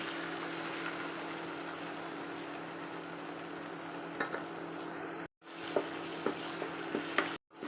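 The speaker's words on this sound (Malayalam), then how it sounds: "മുട്ട ഒഴിച്ച് കൊടുക്കാം" Egg poured into hot coconut oil with fried onion sizzles in a steady hiss, broken by brief stirring clinks and two short silences near the end.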